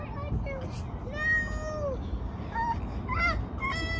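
A cat meows repeatedly in drawn-out, wavering cries that rise and bend, close by and fairly clear. Low background rumble runs beneath, and a person speaks around the calls.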